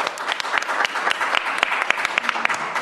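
An audience at a city think-tank meeting gives itself a round of applause, with distinct, fairly close individual claps in a lively, uneven rhythm throughout.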